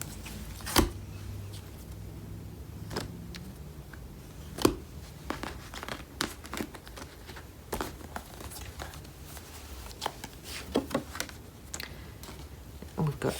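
Tarot and Lenormand cards are shuffled by hand, giving quiet, irregular soft slaps, riffles and crinkly clicks scattered across a hushed room tone.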